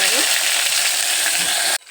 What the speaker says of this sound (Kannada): ಇದಕ್ಕೆ ಹಾಕ್ತೀನಿ ಒಗ್ಗರಣೆ ಕೊಡ್ತೀನಿ